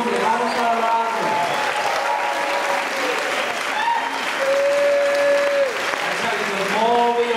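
A church congregation keeps up sustained, even applause over held musical tones and voices, the clapping staying loud and full from start to end.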